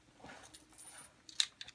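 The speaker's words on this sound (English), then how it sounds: "a couple of sets of my keys" A couple of sets of keys jangle faintly while being placed into a small everyday-carry pouch, with soft scattered metallic clinks and one brighter jingle toward the end, close and quiet.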